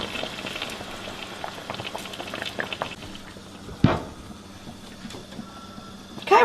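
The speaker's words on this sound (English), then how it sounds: "you can see we're boiling it good" Beef shank broth boils hard in a pot as it cooks down into gravy, a steady close bubbling and popping with a few louder clinks of a pot or utensil.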